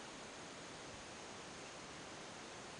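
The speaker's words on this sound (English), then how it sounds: "You also hear some water running" Water running in a small river at the bottom of a valley near Uvita, a steady broadband rush with no breaks, faint and distant in the open air.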